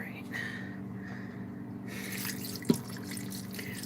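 Tap water runs steadily into a pot of homemade pasta in a home kitchen, a continuous splashing pour with a single sharp clink partway through, with a voice heard over it.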